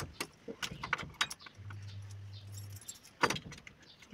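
A bunch of keys jangles and clinks in bursts as someone tries them on the door of a storage room in a 100-year-old village house, with close metallic rattles and a low steady hum between.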